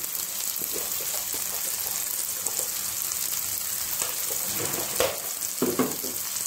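Steady, close sizzling of spice masala with turmeric sautéing in a pan for salna, with occasional stirring scrapes and louder bursts near the end; no talking.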